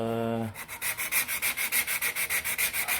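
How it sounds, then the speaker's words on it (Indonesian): Sandpaper works body filler on a vintage Vespa in fast, even back-and-forth strokes, loud and close, starting after a short steady tone. "untuk mendapatkan permukaan rata kan tadi itu ya diamplas ya"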